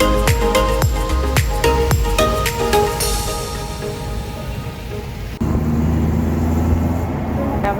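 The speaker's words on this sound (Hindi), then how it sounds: "अभी ट्रैफिक जाम में फंस गई।" Heavy road traffic in a jammed Bengaluru street: a steady roar of idling and creeping engines with repeated sharp horn-like tones early on, then a continuous rumbling drone that shifts in level partway through.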